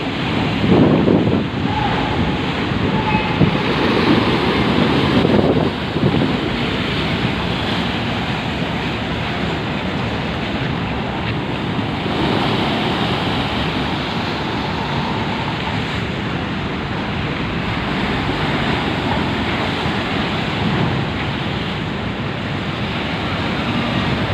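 Rough sea waves surge and wash steadily at Merak harbour while strong wind buffets the microphone, a continuous loud roar with a brief heavier swell near the start.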